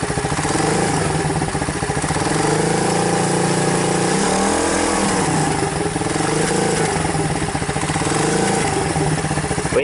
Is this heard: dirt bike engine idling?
yes